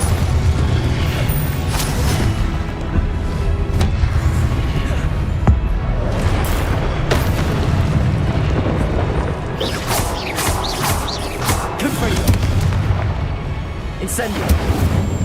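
Incendio fire spell cast in Hogwarts Legacy, heard as a loud sustained roaring, crackling blast with bursts of whooshing flame and rumbling impacts, dense game sound throughout.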